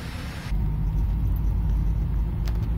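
A car heard from inside the cabin on a morning drive, with a steady low road rumble and engine hum that swells in after a brief quieter moment and holds evenly, close and fairly loud.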